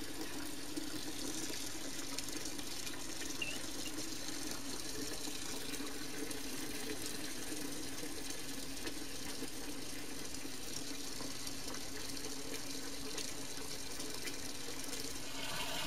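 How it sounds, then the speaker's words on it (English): Water runs steadily from a tap in a lab while a filtered resorcinol carboxylation product and its beaker are washed out, a continuous close rushing with no talk over it. "the beaker was washed out with some water, and the product was washed directly with some water"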